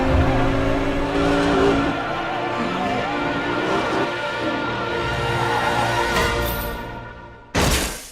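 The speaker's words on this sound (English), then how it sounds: "there is a very well done and funny piece of slapstick in the car chase in" A car chase scene from the James Bond film Spectre: loud, continuous engine roar with revving and tire squeal, shifting pitch as the cars race, ending in a sudden burst of noise, with no voices.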